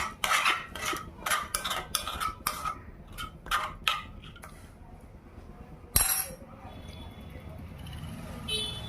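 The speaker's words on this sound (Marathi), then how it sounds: "पोहे खाली लागू नये म्हणून सारखं हलवत राहायचं" Poha being stirred with water in a pot for a baby food recipe, a spoon scraping and clinking in quick bursts against the pot, then a louder knock and a quieter simmering stretch.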